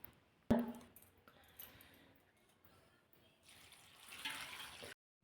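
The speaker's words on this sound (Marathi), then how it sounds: "यामध्ये पाणी घालून कोबी स्वच्छ असा धुवून घ्यायचा आहे" Water runs and splashes for several seconds over chopped cabbage in a colander, a soft faucet stream that swells louder near the end before stopping abruptly, with a brief clatter at the start.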